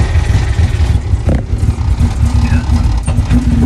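A Lamborghini Murcielago V12 engine cranks and fires up, a loud, rough low rumble with uneven pulses while people talk close by.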